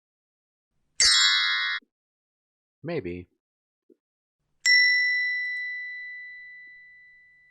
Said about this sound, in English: Church bells now.